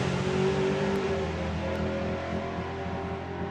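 Drag racing truck engine at the FIA/FIM Euro Finals 2025, a loud sustained roar with a steady droning pitch that slowly fades slightly, heard alone without voices.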